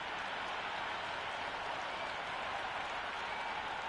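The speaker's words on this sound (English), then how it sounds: "this crowd is already making it hard for me to be heard" Cricket stadium crowd at a T20 exhibition match, a steady wash of applause and cheering that sounds distant and fairly quiet, unbroken throughout, with no clear talk.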